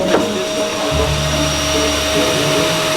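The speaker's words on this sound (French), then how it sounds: "Pendant que quelqu'un passe l'aspirateur au camp" Vacuum cleaner running at a camp, a steady loud whine with a constant tonal hum that continues throughout with no talking.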